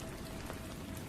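Soft, steady ambient rain with a dense, even hiss of falling drops, quiet and continuous throughout with no other sounds.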